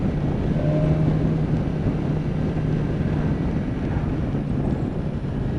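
BMW S1000XR motorcycle accelerating hard, a steady loud engine drone buried under heavy wind roar, continuous and close without any voices.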